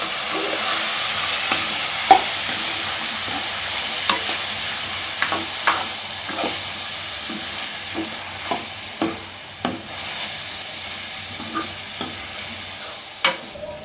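Tomatoes fry in a pan for a tomato gojju under a steady hiss, while a spatula scrapes and clicks against the pan at irregular intervals, close and moderately quiet.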